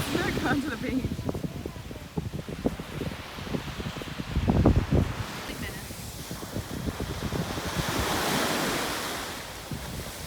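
Surf washes onto a beach while gusts of wind buffet the microphone, the waves surging and receding close by with a steady, rough roar.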